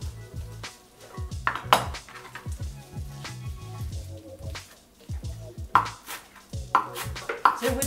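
Spring onions being chopped on a board for Turkish lentil köfte, a rapid rhythmic run of knife taps with a few louder clatters of utensils, close and unhurried, no talk.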